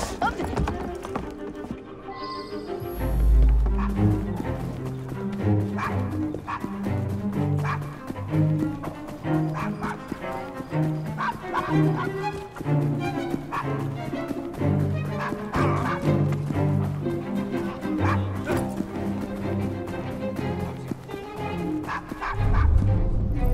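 In Assassin's Creed Syndicate, a dog barks repeatedly in short, loud yips and woofs close by, scattered across a busy street scene with hooves clip-clopping and game music underneath.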